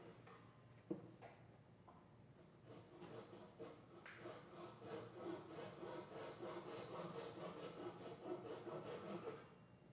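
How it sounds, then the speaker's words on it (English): A hand saw cuts a wooden workpiece with its blade held against a magnetic guide sheet for a right-angle cut. The strokes are quiet and rhythmic and speed up after a few slow starts. Each rasping stroke is faint and close, with no talking. "The saw blade is placed up against the magnetic sheet, and workpiece is cut to achieve a right angle"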